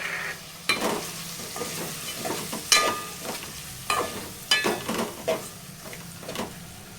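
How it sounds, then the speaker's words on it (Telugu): Chicken pieces with chili powder are stirred in a frying pan for Andhra-style gongura chicken, with steady sizzling under repeated scraping strokes of a spoon against the pan, up close. "చికెన్ ముక్కలు ఇలా కొంచెం ఉడికిన తర్వాత కారం వేసుకొని అంతా ఒకసారి కలుపు"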